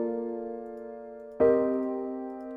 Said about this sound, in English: So if we move them an octave up, it'll sound like this.